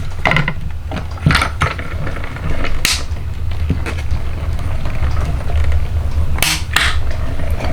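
A manual die-cutting machine is hand-cranked with a plate run through it, giving a close, loud grinding rumble broken by ratcheting clicks and a few sharp snaps and creaks.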